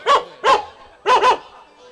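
A dog barks loudly and close: two single barks, then a quick double bark, in a short burst outdoors.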